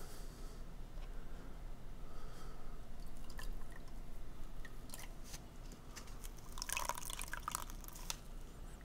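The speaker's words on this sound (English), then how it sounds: "We're just going to submerge the whole sponge." A sponge pushed down into water for cleaning toy action figures, with faint wet dripping and squelching that grows busier near the end, no talk.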